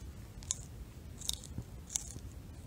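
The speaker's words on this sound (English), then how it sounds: "We'll just start chewing it." Chewing on a plant segment with its thorns removed during outdoor survival foraging: three sharp, crisp bites stand out over a steady soft mashing, close and fairly quiet, with no talk.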